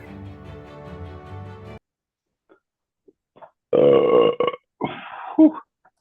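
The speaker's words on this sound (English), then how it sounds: "A good burp just to start off the night." A loud, drawn-out burp near the start of a night out, a deep croaking belch lasting about a second followed by a couple of shorter guttural bursts, close and clear in an otherwise quiet room.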